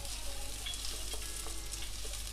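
Onions sautéing in hot oil for a crab roast, with a constant close sizzle and a few faint stirring scrapes over a low background hum.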